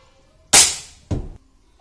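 A Precihole NX100 .177 air rifle fires a single sharp, loud crack up close, followed about half a second later by a shorter second thud, then quiet.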